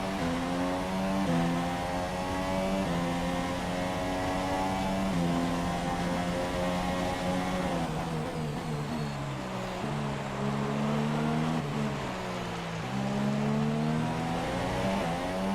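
Ferrari Formula 1 race cars scream past in the video game F1 2017 at the Mexico race, a steady high engine whine with shifting pitch as the cars run side by side, continuous and loud throughout.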